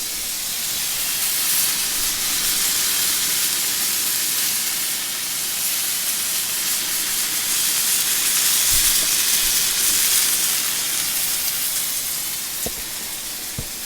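A ribeye steak sears in a hot cast iron pan with a loud, constant sizzling hiss that holds steady throughout, plus a few faint knocks near the end, with no voices.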